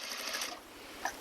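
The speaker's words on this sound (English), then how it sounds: "So I'm just going to start up at the corner here and sew this piece down." A sewing machine stitches down a corset modesty panel in a brief, fast, even mechanical whirr with a regular needle rhythm, heard close and alone.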